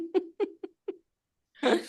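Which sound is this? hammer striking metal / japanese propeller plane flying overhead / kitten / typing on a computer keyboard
kitten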